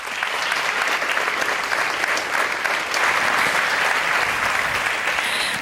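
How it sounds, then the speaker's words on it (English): A large audience at a dance-field conference's opening plenary bursts into loud, dense applause that runs without pause, rising a little in the middle, with no voices over it. "Let's just have one more really big round of applause for the Doris Duke Charitable Foundation."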